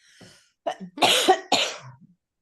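Several short coughs and a throat clear from a woman with a tickle in her throat, close and loud, with a quiet breath before them and no talk during the clip.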